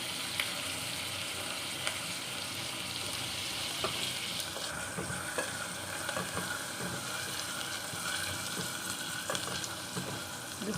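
Curry leaves frying in a pan for sambar, giving a steady, close sizzle with faint scraping from stirring; no one speaks.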